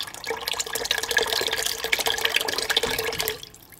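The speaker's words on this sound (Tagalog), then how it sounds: "lagyan natin ng kunting tubig." Water pours from a tap or container into a pot of pork belly, a steady splashing fill lasting several seconds before cutting off.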